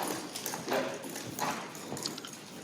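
A horse's hooves strike the ground in a loping gait, making a soft, rhythmic series of muffled thuds at moderate distance that repeat steadily over the quiet.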